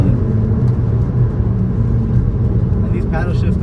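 A 2022 Dodge Challenger GT with a V6 engine drives along, its steady low engine rumble and road noise loud and continuous throughout, with a brief higher whine near the end.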